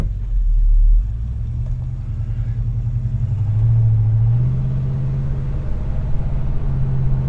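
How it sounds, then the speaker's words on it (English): A 1970 Buick Electra V8 pulling away on a drive, with a low engine rumble that swells as it revs up midway, then settles into a steady cruising drone. "So let's take it for a ride now."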